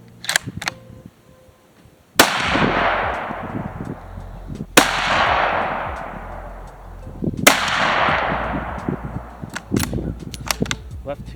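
Three sharp, loud rifle shots from a Ruger American Predator in 6.5 Creedmoor at an outdoor range, spaced a few seconds apart, each cracking and then decaying in a long echo, with quiet voices and small clicks between them.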